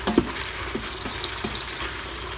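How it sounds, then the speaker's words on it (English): Sausage sautéing in a pot for red beans gives a soft, steady sizzle with a few light knocks and scrapes of a spoon, one louder clunk at the start; no talking. "I will keep sauteing this one as well until the flavor will go"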